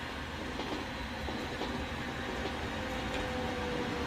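Trains rolling along rail lines in the video game Transport Fever 2, a steady rumbling wash of wagons and track noise with faint clicking, constant and continuous with no talk.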